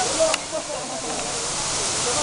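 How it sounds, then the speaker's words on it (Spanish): Water falls with force at a waterfall in Chiapas, Mexico, producing a steady, loud broadband rush with no breaks. "el impacto que tiene el viajero al escuchar la fuerza con que cae el agua"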